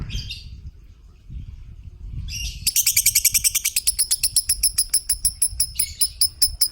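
Rapid, repeated high-pitched lovebird chirps burst in after a few quiet seconds, a fast chattering series close by over a low background rumble.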